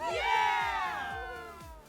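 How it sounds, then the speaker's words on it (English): Children cheering and shouting together at an Easter Sunday gathering at home, a loud burst of excited voices that swells early and then tapers off over a couple of seconds. "let me hear you cheer"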